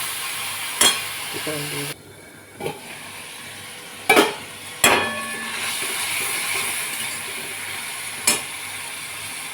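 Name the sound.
sautéing spiced curry with chilli, salt, turmeric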